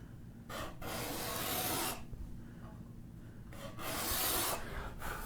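Fishing line drawn by hand through a block of cheese, giving two long, smooth rasping strokes, each about one to two seconds and close up, with a short quiet pause between them and no talking.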